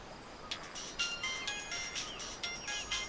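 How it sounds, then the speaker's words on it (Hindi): A mobile phone rings with an incoming call, a faint repeating electronic melody of short bright tones pulsing about twice a second over a soft background hiss, with no one speaking. "अबे किस भुक्कड़ का फोन आ गया?"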